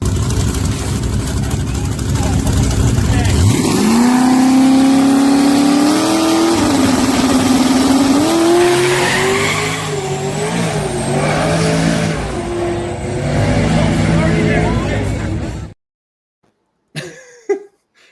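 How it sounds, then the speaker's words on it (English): A turbocharged race car engine roars loudly during a racing run, its pitch climbing and wavering as it revs hard for about fifteen seconds before cutting off abruptly, followed by a couple of brief faint noises. "You can hear those turbos"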